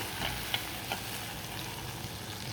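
Steady, soft sizzling of onions sautéing in a pan until translucent, with a few light clicks of stirring.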